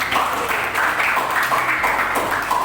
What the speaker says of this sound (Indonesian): Luar biasa sekali, tepuk tangan saya semua.